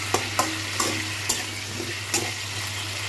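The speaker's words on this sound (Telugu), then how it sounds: "మూత పెట్టేసి కొంచెం ఫ్రై చేసుకుందాము." Brinjal for a kurma fries in a pan with a steady sizzle, punctuated by several sharp clacks as the pieces are pressed and stirred, with no talking.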